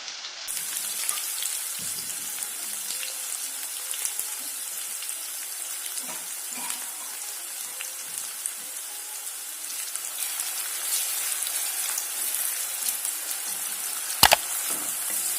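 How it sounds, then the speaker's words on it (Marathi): Chopped onion frying in a pan for a brinjal-potato curry, a steady broadband sizzle and crackle running throughout at moderate level, with a brief sharper clatter near the end. "त्यानंतर आपण कांदा टाकणार आहोत चिरलेला आहे कांदा"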